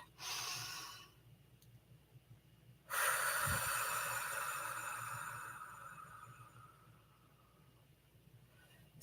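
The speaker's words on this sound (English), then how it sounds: "let's take another deep breath." A slow deep breath drawn in and released out, close and soft, with a faint sniff before it and the long exhale fading away into quiet.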